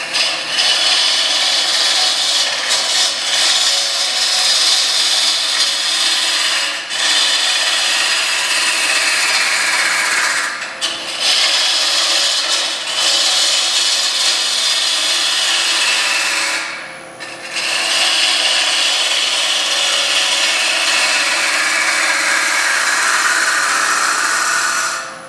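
A wood lathe spins a bowl blank while a turning tool cuts it, a loud continuous hissing shear of wood shavings broken by short pauses as the tool lifts off.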